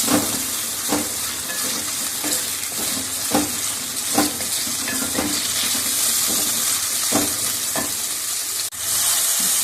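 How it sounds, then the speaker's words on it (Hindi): Chicken sizzles loudly in hot ghee, with a constant crackling hiss and a few clinks of a utensil stirring the pan. "चिकन हमारा अच्छे से फ्राई हो जाए"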